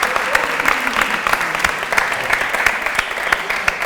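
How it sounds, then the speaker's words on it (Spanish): Steady applause from an audience at an author event, dense clapping sustained throughout without pause. "le damos un gran aplauso a Pablo."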